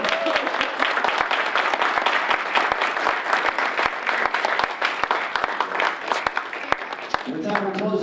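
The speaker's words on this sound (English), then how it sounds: "let's have a great round of applause for Anna Miller-Nickel and Brittany Starling" A crowd at the 2022 USC Upstate Athletics Hall of Fame ceremony gives a sustained round of dense clapping that gradually thins near the end as a voice begins to speak.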